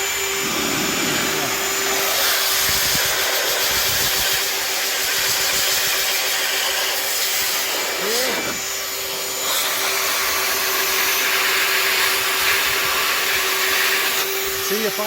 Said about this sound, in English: Typical blower attachment.